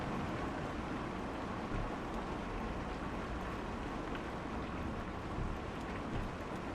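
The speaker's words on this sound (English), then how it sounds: "It's raining pretty badly." Heavy rain pours down steadily in the video game Kentucky Route Zero, a loud, dense, unbroken wash of noise with no pauses.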